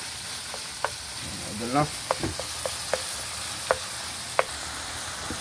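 Onion and tomato sauté in a pan for ginisang sayote with giniling, a steady sizzle broken by sharp scraping and tapping of a utensil, with someone briefly talking over the cooking.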